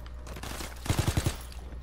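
A quick burst of about five gunshots fired at a barrel, evenly spaced in rapid succession, fairly close and loud against a low background rumble.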